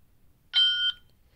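A single bright electronic beep from a PAX A920 card terminal touchscreen, clear and close, lasting under half a second, set against near silence.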